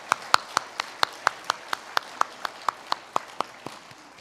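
A church congregation claps for the choir at a year-end Sunday service: a sparse, rhythmic run of about eighteen sharp hand claps, evenly spaced and fairly close, with no talk over them.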